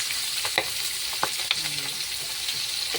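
Onion fries in a pan with a bright continuous sizzle, punctuated by a few sharp clicks and scrapes as it is stirred, no voices over it.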